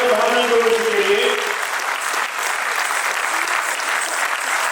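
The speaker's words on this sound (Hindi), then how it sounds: "जोरदार ताली एक बार पुनः इन बच्चों के लिए" Enthusiastic audience applause for children at a stage performance, a dense steady clapping that fills the whole stretch, loud and close, with a voice briefly carrying over the start.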